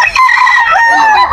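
A rooster at a busy chicken market gives a loud, close, single crow that fills the whole moment, ringing and full with no voices over it.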